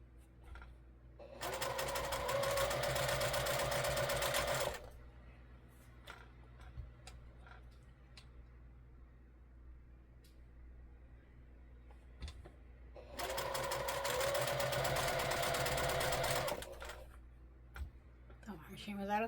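A home sewing machine running out of thread stitches in two loud, steady bursts of about three seconds each, separated by a quieter gap with small clicks and handling noise.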